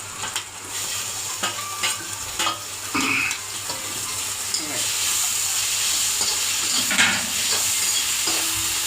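Tomato frying in a pan for a Kerala egg curry, a continuous bright sizzle and hiss with scattered stirring scrapes and clinks, heard close and steady throughout.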